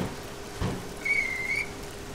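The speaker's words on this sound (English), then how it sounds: "Oh, whistle's going." A Class 415 train's whistle blows as a single steady shrill tone lasting about half a second, moderately loud over a background of rain-like hiss and low rumble, with a brief thump just before it.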